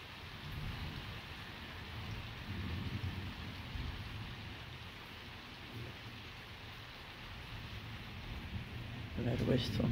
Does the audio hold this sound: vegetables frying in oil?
no